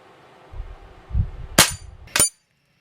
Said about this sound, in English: I'm going to continue shooting at the big targets on this.